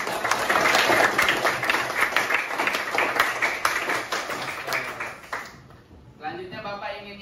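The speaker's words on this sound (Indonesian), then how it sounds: "Ya, tepuk tangan untuk semuanya." Applause from a primary school class praising students for their group discussion work, a dense, steady clatter of many small hands that lasts about five seconds before cutting off into a quieter room.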